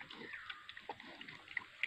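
A pig grunts and snuffles softly at a distance, with scattered faint oinks and small squeaks over a quiet background, no voices.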